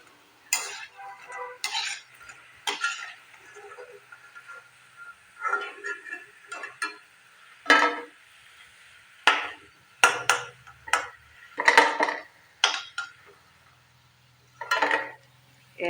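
Fried besan pakoras are lifted out of a pan of hot oil, giving repeated scrapes and metallic clinks of a spoon against the pan with soft oil sizzle and pauses between strokes, close up and with no speech.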